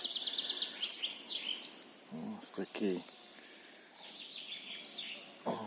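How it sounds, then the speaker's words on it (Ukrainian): Birds chirp and twitter in a forest in Ukraine's Rivne region after rain while a person speaks nearby, with brief rustling and quiet outdoor ambience. "пташки виспівують."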